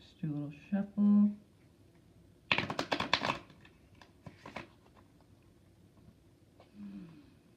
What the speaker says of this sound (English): Just do a little shuffle.